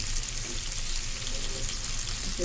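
Fish and onion frying in hot oil in a pan, a steady loud broadband sizzle running unbroken throughout, close and without talking.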